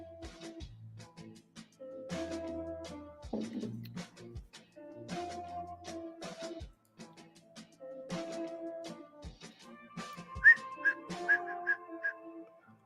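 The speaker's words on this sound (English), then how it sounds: "when I whistle" A person whistles a wandering tune in short phrases with brief pauses, close and clear, ending in a few sharp higher notes.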